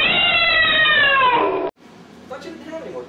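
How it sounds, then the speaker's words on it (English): A cat meows in a long, loud, drawn-out cry close by, followed by softer, quieter sounds after it cuts off abruptly. "I thought you didn't have any more cats."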